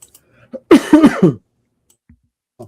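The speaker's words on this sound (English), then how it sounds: "So you get my coughing." A person coughs loudly and close, a quick cluster of three or four harsh coughs, with near silence around them.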